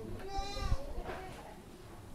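A small long-horned goat gives one wavering, nasal bleat close by, followed by a fainter second call, over outdoor background noise.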